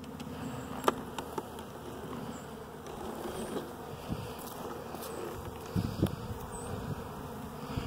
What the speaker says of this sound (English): Nope, it's getting robbed